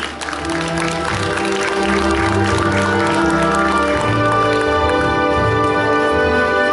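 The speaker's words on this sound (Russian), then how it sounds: "Аплодисменты, дамы и господа, аплодисменты!" Audience applause at the award ceremony of a republican Tuvan dance festival competition, sustained steady clapping that holds evenly under music with sustained tones.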